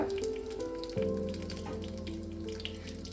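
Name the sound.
dried red chilies and bay leaves sizzling in hot oil in wok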